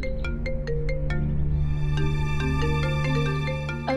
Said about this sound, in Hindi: मेरा फोन बज रहा है